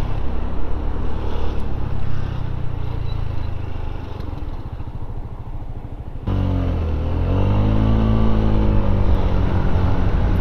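Honda PCX scooter engine while riding, a steady loud motor drone with wind rush, rising in pitch after a brief shift in load partway through, with no talking.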